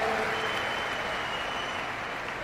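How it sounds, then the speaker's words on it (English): An audience claps during a spiritual talk in Delhi, a continuous dense wash of clapping from a large crowd, loud and steady at first and easing slightly toward the end. "Oh, you're clapping."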